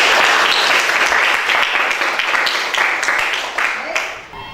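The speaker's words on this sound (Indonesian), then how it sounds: "Tepuk tangan yang meriah." Classroom applause from students during a Hindu religious education lesson, a dense burst of clapping that fills the room and holds steady for several seconds before tapering slightly at the end.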